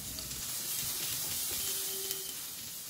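Onions frying in oil in a pan until browned for a Bengali tengra fish and potato curry, a steady soft sizzle and hiss running throughout at moderate level with no talking.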